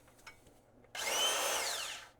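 After a quiet moment with a faint click, a repaired Makita DSS611 circular saw starts up and runs with a loud, steady high whine that slowly eases off.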